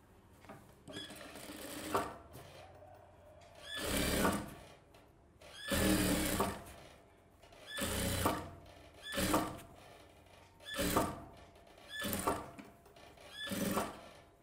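A sewing machine stitches a silk skirt in short repeated bursts, each whirring run lasting about a second, separated by quiet pauses in a steady start-stop rhythm, fairly close and clear.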